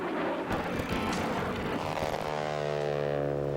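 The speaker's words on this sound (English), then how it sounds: "The Lancaster, of course, the most outstanding heavy bomber of the Second World War." An Avro Lancaster, a Second World War four-engine heavy bomber, roars overhead with a loud droning propeller hum. Broadband rushing noise gives way to a steady harmonic engine drone as it passes.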